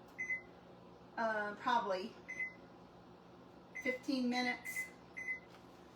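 Short electronic beeps chirp from an oven timer while it is being set for a baking sweet potato pie, a few crisp tones spaced apart between a woman's nearby speech.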